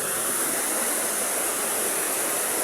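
Fresh spring water flowing from under rocks in a rural countryside stream gives a constant, close, full rushing hiss with no voices.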